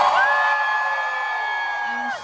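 A concert crowd at a sound check screams and whoops in a sustained, loud roar, with one piercing high yell held for nearly two seconds over the cheering.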